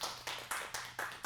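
A small audience claps in a few short bursts, close and fairly faint, with no voices over it.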